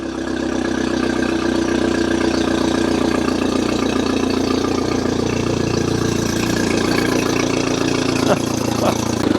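A boat engine idles steadily after being started by jumping the starter solenoid, a loud, continuous mid-pitched rumble close by with no break.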